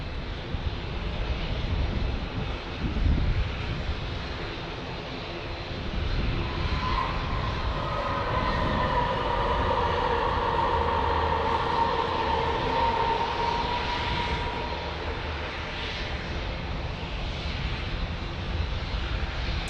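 An ATR turboprop airliner lands at San Diego, its engine drone swelling with a rising, then falling whine as it passes at moderate distance over steady outdoor background noise, no talk.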